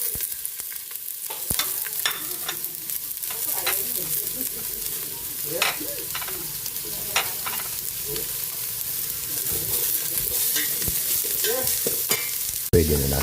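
Garlic and onion sautéing in a pan for a Filipino pork dish, a steady, close sizzle with scraping and stirring sounds throughout and no talking.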